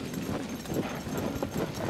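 Horse hooves clip-clop in Zelda: Tears of the Kingdom as bokoblins ride on horseback, a quick run of muffled thuds at moderate loudness over game background sound.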